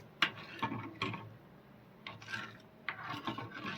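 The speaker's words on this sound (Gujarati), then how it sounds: "એકદમ ચણાનો લોટ કાચો ના રહે ત્યાં સુધી આપણે હલાવીશું" A spoon stirs and scrapes gram flour chutney in a pan over a gas flame, giving soft, close rubbing strokes and occasional taps in an irregular rhythm, with no talking.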